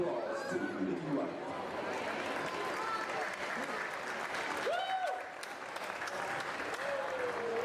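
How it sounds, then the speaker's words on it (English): A crowd at a high school football game claps and cheers for a servicewoman preparing to deploy, with steady applause and chatter spread across a large outdoor venue, plus a few whistles. "Let's give a round of applause to Nicky Wright."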